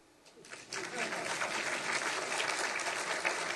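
An audience at a book release event for 'The Constitution We Adopted' breaks into applause, starting faintly and swelling into a steady, dense round of clapping.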